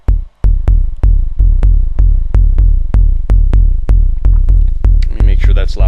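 An analog drum synth, a clone of the Coron DS8, fires a steady series of deep booming hits with long decaying tails, evenly spaced and loud, with a faint swirling tone creeping in at the end.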